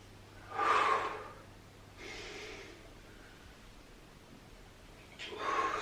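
Heavy breathing during a functional fitness workout: two or three loud, close exhalations, sharp bursts of air separated by quieter gaps, with no talking.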